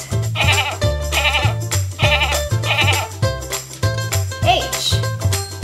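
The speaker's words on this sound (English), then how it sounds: "G is for goat." A goat bleats repeatedly in short wavering cries, loud and close, set against a rhythmic musical backing.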